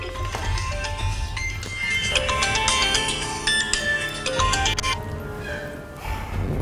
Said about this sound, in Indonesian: Itu berisik banget handphonenya.